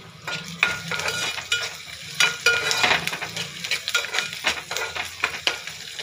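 Vegetables for a capsicum tomato curry fry in a pan, crackling steadily close up while a spoon stirs and scrapes in repeated strokes, with no voices.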